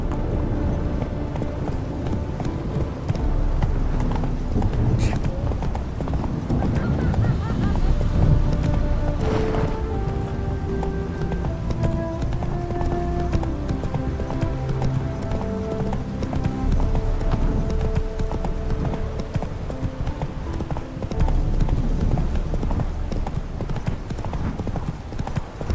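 Hoofbeats of the horse Roach galloping in the video game The Witcher 3, a steady rhythmic clip-clop running throughout, mixed with game music and ambience.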